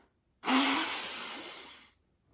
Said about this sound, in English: there should be no giant gasp through your mouth